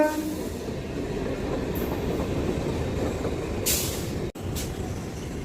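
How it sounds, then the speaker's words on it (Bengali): A commuter train pulls into a suburban station platform near Kolkata on the Sonarpur–Sealdah line, a steady rolling rumble of wheels and cars with a sharp hiss of air brakes toward the end, loud and close. "আর ট্রেনও ঢুকছে দেখো।"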